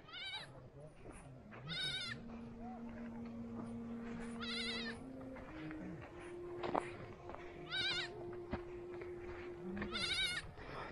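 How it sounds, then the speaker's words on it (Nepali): Several sheep bleat in repeated short, wavering calls from a temporary lowland pen near Siklesh, Nepal. They sound moderately close over a low outdoor hum, and people talk quietly between the calls. "तपाईँहरू देख्न सक्नुहुन्छ यहाँ चाहिँ भेडा रहेको छ"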